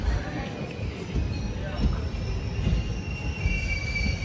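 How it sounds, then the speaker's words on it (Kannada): A train arrives at Gubbi railway station with rumbling rail noise, rhythmic wheel clatter and a faint high squeal from the wheels, while people talk nearby. "ಗುಬ್ಬಿ ರೈಲ್ವೆ ಸ್ಟೇಷನ್ಗೆ ಗಾಡಿ ಬಂತು"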